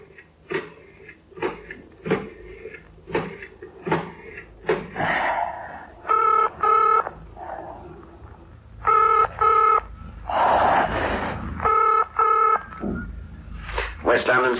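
In a radio drama, a telephone is handled and dialed as tone bursts and clicks repeat in short groups between breathy, agitated vocal sounds and movements.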